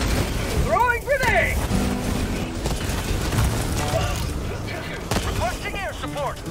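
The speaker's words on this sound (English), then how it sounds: "Throwing grenade!" Grenade blasts and combat chaos in Helldivers 2, loud continuous booms and rumbling gunfire with whistling projectile sweeps, dense and close throughout, while voices shout over the action.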